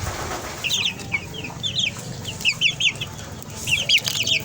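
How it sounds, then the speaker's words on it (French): Young Cobb 500 broiler chicks on a poultry farm cheep in quick high-pitched bursts that come in clusters across the clip, with a steady low noise of the room underneath. "Ok, là voici des poussins"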